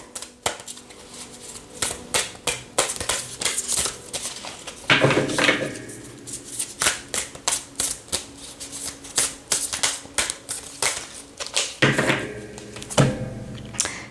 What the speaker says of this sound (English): I'm shuffling the cards and they're kind of going everywhere